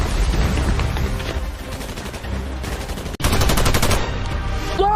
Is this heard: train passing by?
no